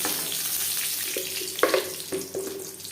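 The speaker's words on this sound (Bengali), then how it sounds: "সবার প্রথমে পনির ভেজে নেব তিন চামচ রিফাইন অয়েল গরম করে নিয়েছি দিয়ে দিলাম লবণ" Cubed paneer sizzles in three spoons of hot refined oil with salt, a steady close frying crackle broken by a few sharp clinks and scrapes of a utensil against the pan.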